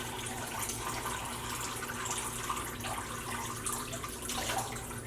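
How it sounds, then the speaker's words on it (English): Water draining from a basin after a hot dye bath for roving, a steady broadband gurgling and rushing flow with faint splashes, moderately quiet and continuous throughout. "I'm letting the water drain."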